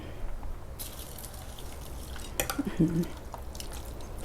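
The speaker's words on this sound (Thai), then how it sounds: "ฝนตกเด้อค่ะ ตอนนี้" Rain dripping during a heavy downpour, with scattered drips and splashes over a steady wash of background noise and a voice speaking faintly in the background.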